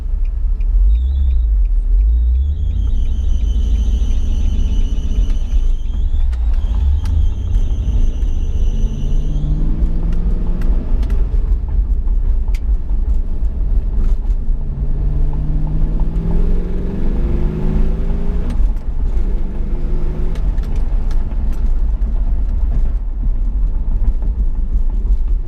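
An LS-swapped Nissan 350Z on a first drive, its V8 giving a steady, loud low rumble that rises and falls through gear changes, heard from inside the car with no talk.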